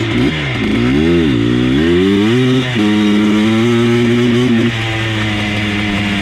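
An abandoned ATV engine idles roughly, its pitch wavering and surging unevenly, then settling into a steady but ragged loud drone up close.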